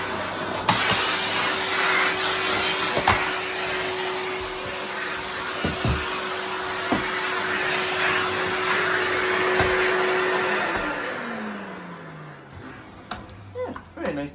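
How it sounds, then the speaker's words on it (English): A vintage Electrolux 165 cylinder vacuum cleaner runs steadily on carpet with a loud, continuous whirring hiss, then winds down with a falling motor tone near the end. "very nice little vacuum"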